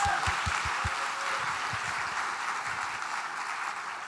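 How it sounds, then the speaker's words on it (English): Conference audience at a devopsdays event applauding the organizers, a broad steady patter of many hands sustained for several seconds, with a few heavier claps or thumps near the start. "can we all give a really big round of applause to the organizers of this event?"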